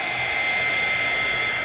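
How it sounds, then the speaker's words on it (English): A blow dryer runs steadily on a painting canvas, giving a continuous, loud, even whir with a high tonal whine and no breaks or speech. "That's how I use my blow dryer."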